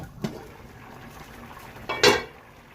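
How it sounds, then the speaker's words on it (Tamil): Lid lifted off a pot of prawn biryani, a small metallic clink near the start and then a louder clatter of the lid about two seconds in, both close over a quiet background with no talk. "பிரியாணி மூடியை திறக்க போகிறேன்."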